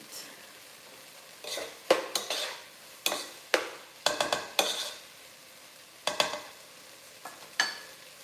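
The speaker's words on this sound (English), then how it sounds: "So 2 more minutes of cooking, and my onions will turn translucent." Onions sautéing in a pan, a soft low sizzle broken by repeated sharp scraping and stirring strokes of a utensil against the pan, close and without talk.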